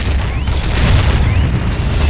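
A grenade goes off in the Warhammer 40k Fire Warrior video game, a heavy booming blast with a sustained rumbling roar that lasts a couple of seconds.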